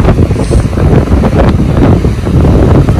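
Strong outdoor wind buffeting the microphone, a loud continuous low rumble with gusty swells, heard alone.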